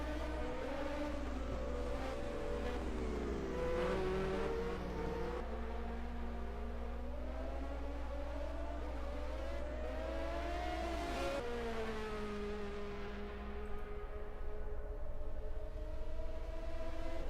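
Several 1986 Formula 1 cars race at the Portuguese Grand Prix at Estoril, their engines holding a steady, continuous roar with rising and falling pitch as they pass, and a loud low rumble underneath throughout.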